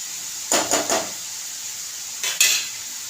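Onion roasting in a pan while a utensil stirs it, heard as a few sharp scraping clinks in two short bursts over a faint background hiss, with no talking.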